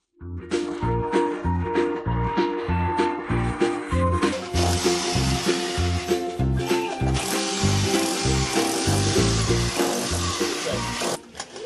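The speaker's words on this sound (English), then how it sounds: "To widen the hole in the concrete wall, I'll use a rotary hammer with a flat chisel attachment" A loud rotary hammer with a flat chisel attachment hammers in a rapid, steady pulse, continuous and close, with grinding and crumbling concrete debris throughout as it widens a hole in a concrete wall.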